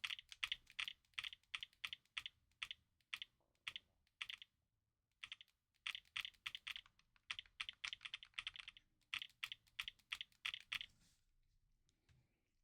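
Shoulder buttons on a Nintendo Switch Lite are pressed over and over, giving quick, crisp plastic clicks in fast bursts with short pauses between, close up and fairly quiet, ending in a few scattered taps.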